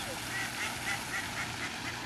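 Ducks at a duck pond give a few faint, distant honking quacks in a steady rhythm, heard over soft outdoor background noise.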